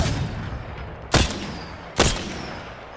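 A Triple Take rifle fires in Apex Legends, two sharp, loud shots about a second apart over a constant background of game noise, with no voices.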